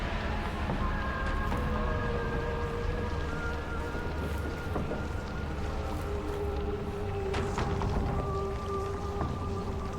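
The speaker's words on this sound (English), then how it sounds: "Is it raining out?" Steady rain hisses and patters in the video game Silent Hill f, a continuous soft wash with occasional thuds, accompanied by sustained tonal game sounds.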